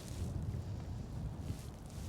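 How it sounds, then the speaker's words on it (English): Wind rushes steadily over open water while kayaking, a low, buffeting roar on the microphone with no voices. "it's windy out here"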